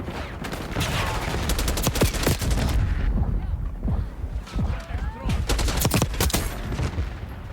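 Rapid bursts of AK rifle fire in a video game, loud and close, come in repeated volleys with short gaps, while a voice talks over the shooting.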